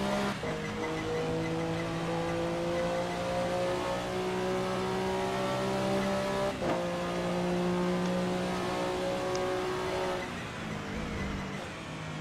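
GT race cars at Le Mans in a racing game roar past with steady high-revving engine drones, pitch rising through the gears and overlapping from several cars, loud and continuous throughout.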